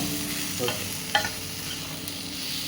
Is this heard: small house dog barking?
no